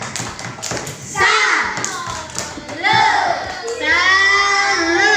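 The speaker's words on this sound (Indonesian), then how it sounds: "Tepuk salut untuk kelompok 4." A classroom of children claps a rhythmic cheer for a group of pupils, voices chanting and calling out loudly over patterned hand claps.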